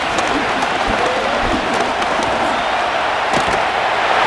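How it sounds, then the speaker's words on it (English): Stadium crowd in the Madden NFL 25 video game cheering loudly and continuously, a dense roar with scattered sharp thuds and claps punctuating it. "The crowd making their presence felt"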